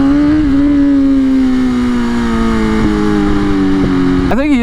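A BMW S1000RR sport bike, a rebuilt crash bike, idles steadily and loudly up close with a smooth, even drone, then gives a quick blip of the throttle right at the end.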